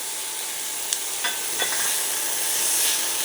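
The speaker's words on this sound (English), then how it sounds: "Now we're going to put the garlic in." Garlic sizzles steadily in a hot pan for Zuppa Toscana soup, a constant bright frying hiss broken by a few light scrapes and clinks of a stirring spoon.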